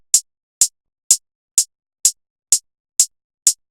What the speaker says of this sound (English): Moving on to hi-hat,